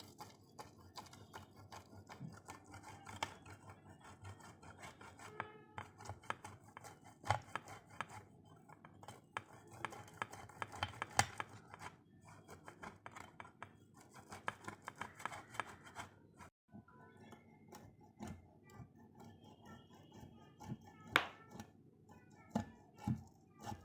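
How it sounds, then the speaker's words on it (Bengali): Boiled eggs grated by hand in a home kitchen for egg lollipops, a steady run of dense, quick scraping strokes with small knocks, close and fairly quiet. "ডিম সেদ্ধ করে নিয়েছি, এখন গ্রেট করে নেব।"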